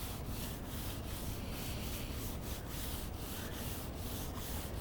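Close, steady sanding on a car body panel, with rhythmic back-and-forth strokes repeating about twice a second, loud and continuous.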